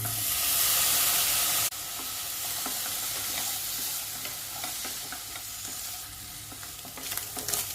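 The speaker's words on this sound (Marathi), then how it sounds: "मीठ घालून झाल्यानंतर आपण पनीर शॅलो फ्राय करून घेऊया." Paneer shallow frying in butter in a pan gives a loud, steady sizzle and hiss, with occasional stirring clinks and scrapes close by, easing slightly after a brief louder burst at the start.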